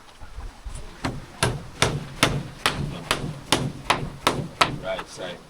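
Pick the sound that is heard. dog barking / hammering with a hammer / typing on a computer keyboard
hammering with a hammer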